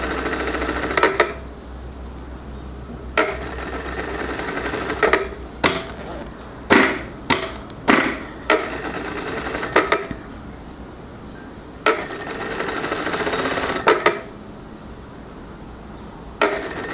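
A sewing machine stitches fabric for a small toiletry bag in repeated short bursts separated by pauses, each run a fast mechanical whir, close and clear with no talking.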